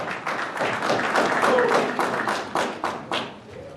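A church congregation claps during a sermon, a fairly even, rhythmic run of hand claps with a faint voice in the middle.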